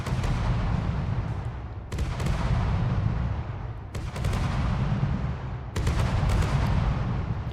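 Blind turrets in a video game fire repeated bursts of loud, heavy gunfire, in four long volleys separated by brief gaps, with no talk over them.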